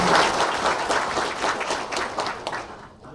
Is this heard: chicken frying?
no